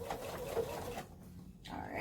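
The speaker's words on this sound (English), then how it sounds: "I love this sewing machine, by the way." A Pfaff sewing machine whirs in a rapid steady stitching rhythm for about a second, then stops briefly and starts again, close by.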